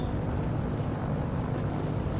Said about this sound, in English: High-speed taxi